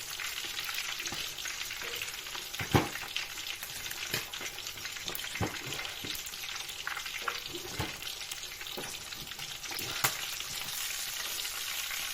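Mackerel sizzles and fries steadily in hot oil while a utensil scoops and bastes oil over the fish, with sharp scraping clicks and splashes breaking through a constant crackle.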